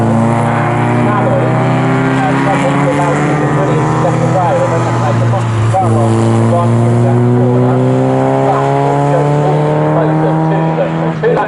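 MG Metro race cars at Snetterton circuit, several engines droning loudly together with rising and falling pitch as they pass through a corner, continuous and close, with a commentator talking over them.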